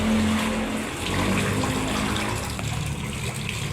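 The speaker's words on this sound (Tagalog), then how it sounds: "Ilog po yan mga idol." River water flowing steadily, a continuous rushing gush heard close and fairly loud with no talk over it.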